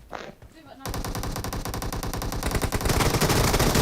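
Rapid automatic gunfire in a team-based shooter video game, loud continuous bursts that start after a brief quieter moment and keep going without a break.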